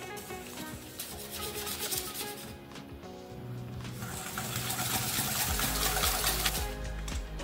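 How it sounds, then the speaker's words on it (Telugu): Oil and powdered sugar being whisked together in a bowl for an egg sponge cake, giving a continuous scraping, rubbing sound with light clinks over several seconds. "ఇప్పుడు మనం దీన్ని బాగా మిక్స్ చేసుకుందాము."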